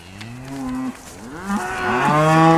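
Cattle low in a field, several drawn-out moos from different animals overlapping and rising in loudness toward the end, fairly close and clear.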